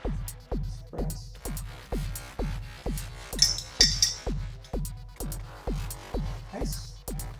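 A gin martini is stirred with ice in a mixing glass, giving a steady series of close clinks and swirls at an even rhythm of roughly two per second, with a few brighter chimes midway.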